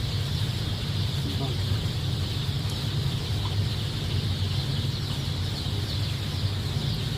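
A flock of thirsty chicks in a poultry house cheeps and clucks continuously as a soft, dense chatter over a steady low hum, with a voice talking faintly underneath.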